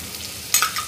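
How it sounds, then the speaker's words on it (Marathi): Ginger garlic paste sautéing with fried onions for veg pulao: a low steady sizzle, then a burst of louder frying and stirring scrapes as the paste hits the pan, settling into a brisk crackle. "व्यवस्थित परतून घेऊया।"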